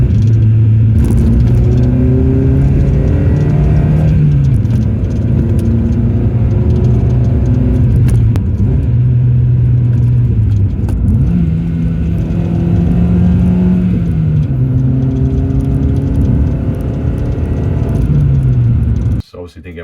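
Car engine heard from inside the cabin while driving, a steady loud low rumble with rising and falling revs through gear changes, continuous for about twenty seconds before cutting off.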